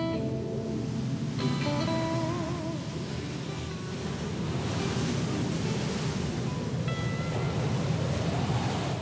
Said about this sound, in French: Un fort vent d'ouest qui balaie les côtes râpées de Suède.